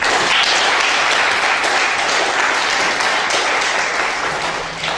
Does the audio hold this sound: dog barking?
no